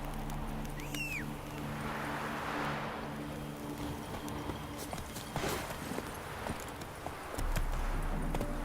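A horse named Roach gallops in The Witcher 3 with a steady, faint clip-clop of hooves under game ambience, and a short chirp early on.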